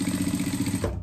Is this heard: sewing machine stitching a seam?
yes